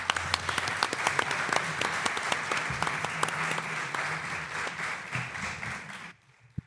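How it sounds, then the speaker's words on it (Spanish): Audience applauding at a mystery-themed conference in Zamora, steady dense clapping for about six seconds that cuts off abruptly near the end. "Un aplauso para Maika, por favor."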